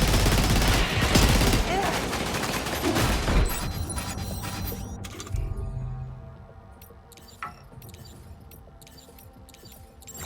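Gunfire in the video game Death Stranding 2, loud, rapid bursts of automatic fire dense over the first several seconds, then thinning out into scattered, fainter shots and clicks as the shooting dies down.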